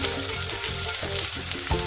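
Garlic and onion fry in hot oil for a vegetable soup, giving a loud, continuous close-up sizzle with faint stirring movements and no talking.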